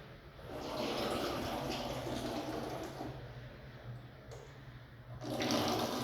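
Water gurgles and rushes steadily for several seconds at a holy spring in Ryazan Oblast, Russia, a continuous bubbling flow with a brief lull before it swells again.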